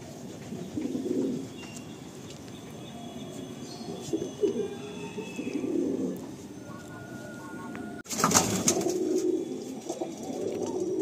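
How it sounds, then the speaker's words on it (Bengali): Pigeons in a loft at Barasat keep up a steady low cooing throughout, close and continuous, until a sudden louder rush of rustling and flapping breaks in near the end as the birds head out. "কোনো পায়রা ডিস্টার্ব হলো না, কি সুন্দরভাবে বেরিয়ে গেল।"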